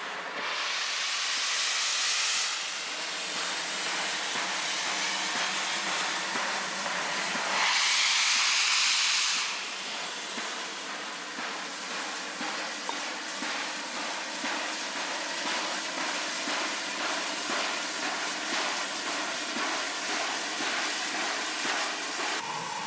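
Steam hisses loudly in bursts over the steady rhythmic chuffing and rumble of a New Zealand AB-class Pacific steam locomotive pulling the Kingston Flyer, heard close and without voices.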